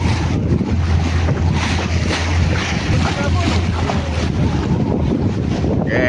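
Strong wind blows by the water from a boat at sea off Malaysia, a heavy buffeting roar on the microphone with a low engine drone underneath and waves rushing, while people talk over it.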